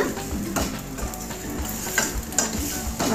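Potatoes and aromatics sauté in a pan for a potato gravy: a constant sizzle broken by repeated scraping stir strokes and a couple of sharper clicks of a utensil against the pan.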